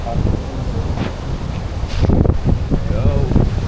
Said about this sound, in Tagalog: Sobrang lakas ng hangin dito sa part na to.